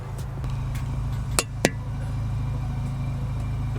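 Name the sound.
VW MK8 GTI with MBRP cat-back exhaust idling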